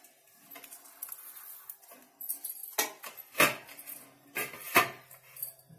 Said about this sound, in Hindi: साइड के जो वेस्ट एजेस है उनको हम काट लेंगे।